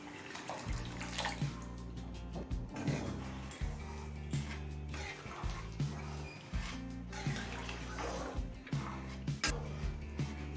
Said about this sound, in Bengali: এবার কিছুটা গরম জল দিয়ে দেবো